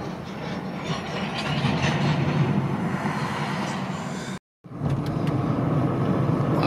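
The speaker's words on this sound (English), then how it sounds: "I just heard the train." Freight train rolling past on the main line, a steady broad rumble and rattle of cars that stays loud and continuous, with a brief dropout midway before the same heavy noise resumes.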